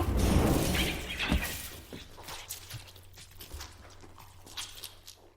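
A head smashed in a film scene, heard as a heavy crunching shatter at the start followed by scattered debris and fainter knocking and crackling that gradually dies away.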